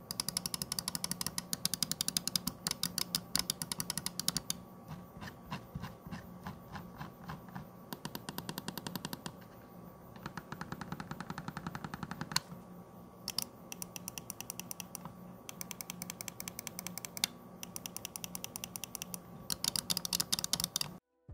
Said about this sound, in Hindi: इस माउस के बटन क्लिक्स की साउंड कुछ यूं है